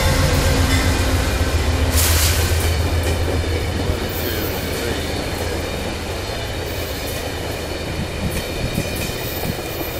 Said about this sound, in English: here's one of the eastbound detour trains from New Haven, Hartford, Springfield on the way to Boston.